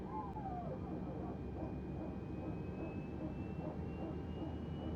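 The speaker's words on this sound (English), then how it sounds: "Okay, the engines are running." Aircraft engines run in Microsoft Flight Simulator, giving a steady, even drone with a faint high whine and no clear changes in pitch or loudness.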